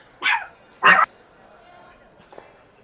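A pet dog barks at home during a live-streamed curling commentary: two loud, sharp barks close to the mic about half a second apart, then a faint trailing sound.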